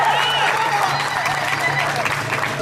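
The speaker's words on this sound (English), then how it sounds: "let's give her a round of applause" A crowd at an outdoor block party in Portland, Oregon claps steadily for a speaker, a dense wash of applause lasting a few seconds while voices shout and talk over it.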